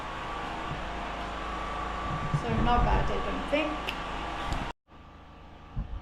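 A steady mechanical generator drone hums in the background beneath a person talking during lime rendering of a wall, continuing after the speech drops out.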